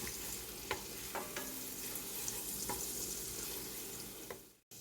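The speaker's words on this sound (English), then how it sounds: "I'm just going to let this cook just for a couple of minutes, and this is just on low heat." Butter infused with granulated garlic sizzling on low heat in a pan, a steady close crackling hiss with a few light utensil taps, no one talking.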